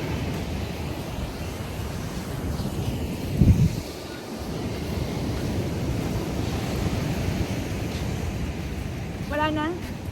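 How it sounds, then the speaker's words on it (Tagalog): Sea waves roll onto the beach in Elyu (La Union) as a steady, close roar of surf mixed with wind buffeting the microphone. There is one brief thump midway and a faint voice-like sound near the end. "In front is the dagat."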